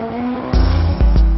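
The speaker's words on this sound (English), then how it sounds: "go-karts, motorcycles, and race cars go full throttle for the finish line" Race cars at full throttle on a 3.7-kilometer elliptical racing circuit in Batangas, heard as a loud, close engine roar that swells suddenly partway through with a couple of sharp surges.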